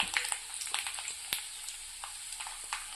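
Dried red chillies and tempering seeds sizzle in hot oil in a kadai, giving a soft, steady crackle with scattered sharp pops.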